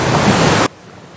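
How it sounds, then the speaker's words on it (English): A loud waterfall roars as a dense, steady rush of water in the Syberia: The World Before video game, then cuts off abruptly to near silence. "Wow, that waterfall is very loud."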